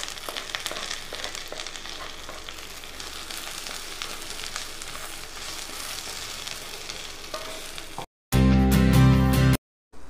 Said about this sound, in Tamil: இந்த வறுத்து வச்சிருக்க பரண்டையும் சேர்த்து ஒரு 2 நிமிஷம் வணக்குங்க